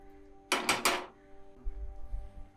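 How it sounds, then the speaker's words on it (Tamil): A lid set down on a cooking pan while making ivy gourd gravy, giving three quick metallic clinks close by, then quiet low kitchen rumble. "ஒரு அஞ்சு நிமிஷம் அப்படி மூடி போட்டு மூடி வச்சிடலாம்"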